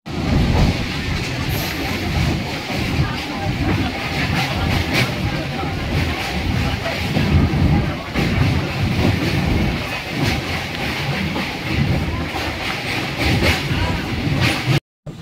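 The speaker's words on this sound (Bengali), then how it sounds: "এই আমাদের ট্রেন এখন কাঁথি স্টেশনে ঢুকছে।" A Santragachi–Digha local passenger train rolls into Kanthi station with a loud, continuous rumble of wheels and carriages, some clatter, and wind buffeting; indistinct voices blend in.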